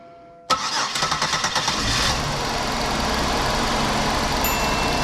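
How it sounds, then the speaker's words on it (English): A 2005 Buick Park Avenue, with a random-misfire fault under diagnosis, cranks briefly with a rapid rhythmic churn, then catches and settles into a steady, loud idle running close by. "All right, crank it up."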